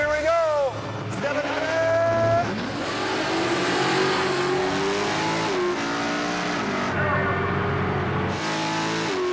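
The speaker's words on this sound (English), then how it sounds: "Airboat S10 is about to go head-to-head against Mike Goff's Mustang, beating with the sleek heart of a 400-cubic-inch Chevy." Drag race between an airboat-engined S10 and a Mustang with a 400-cubic-inch Chevy engine, engines screaming and rising in pitch through gear changes, loud and sustained with excited commentary over the top.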